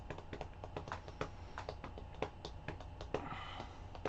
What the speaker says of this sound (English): It's just the anger of typing.